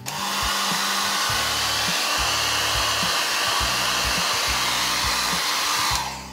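A hair dryer blows steadily to dry purple paint on a notebook, a loud continuous whooshing hum that holds the whole time and then cuts off near the end.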